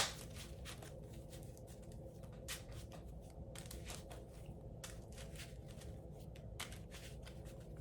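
A Harry Potter trading card game deck is shuffled by hand in a long run of quick riffling, papery bursts with short pauses between them, close and clear with no talking.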